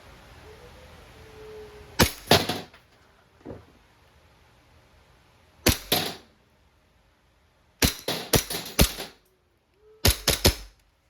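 An E&C airsoft Glock 17 pistol fires several close, sharp cracks, first single shots, then a rapid burst of three or four, then another quick cluster, with quiet pauses between.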